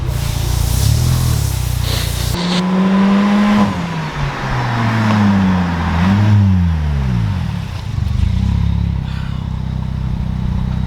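A car fitted with a louder aftermarket exhaust revs hard several times, each rising and falling engine note loud and close, with a steady idle rumble between the blips.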